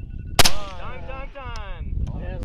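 A single sharp sniper rifle shot cracks out at a competition target range, one loud crisp report followed by a short echo, with people talking over the radio around it.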